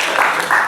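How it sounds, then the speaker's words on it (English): A short, dense burst of audience applause at a university election forum, broadband clapping from many hands filling the room in a brief wash. "A round of applause to them."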